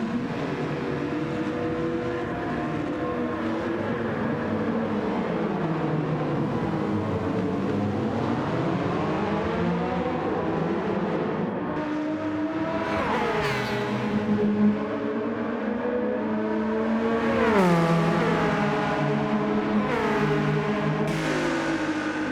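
Race cars passing a pack of Porsches on a wet line in Gran Turismo 7's Le Mans race, a steady loud engine drone with rising and falling revs as cars overtake, continuous throughout.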